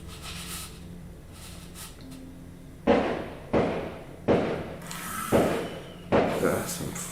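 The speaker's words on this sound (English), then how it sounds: "Fireworks. No need to panic." Fireworks go off somewhere in the neighbourhood, six sharp booming bursts at uneven intervals, each with a fading rumble, heard at a distance over faint background noise.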